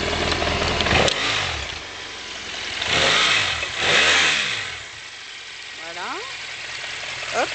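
BMW F650GS motorcycle engine, its black engine revved in several loud throttle blips that rise and fall over a steady idle, close by, with brief speech near the end.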